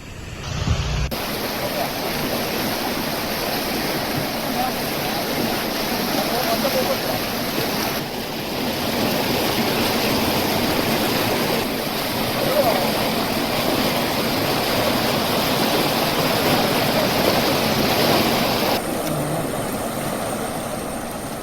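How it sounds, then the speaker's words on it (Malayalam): Floodwater from the swollen Pamba river pours over the Ranni Arayanjilimon causeway in Kerala during heavy rain, a steady, loud, broadband rushing roar that continues without pause, with wind buffeting the microphone. "പമ്പാ നദിയിൽ ജലനിരപ്പ് ഉയർന്നതോടെ റാന്നി അരയാഞ്ഞിലിമൺ ക്രോസ്വേയിൽ വെള്ളം കയറി"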